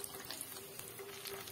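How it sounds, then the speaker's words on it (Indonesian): Fish frying in hot oil for sambal belacan, a steady close crackling sizzle with faint stirring, no voices. "Kita goreng ni dan kita angkat."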